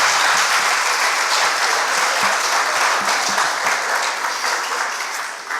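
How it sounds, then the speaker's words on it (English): Audience applause for two girls' school debate teams, Starehe Girls Centre and Loreto Limuru, at a debate competition: a dense, steady round of clapping at full strength that tapers slightly toward the end. "Please give them a round of applause."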